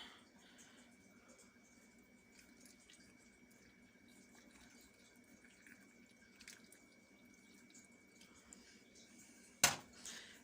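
Brine pours into a fermentation jar as a faint, soft trickle of liquid, ending with a sharp knock near the end.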